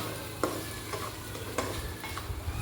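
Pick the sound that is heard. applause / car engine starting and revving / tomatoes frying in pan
tomatoes frying in pan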